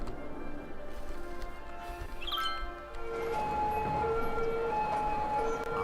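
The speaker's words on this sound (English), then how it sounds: "Oh, listen to all those nice sirens." Wailing emergency sirens sound across a city in the game Cities: Skylines, rising tones layered over a steady low rumble of traffic, growing fuller and more continuous in the second half, at moderate volume.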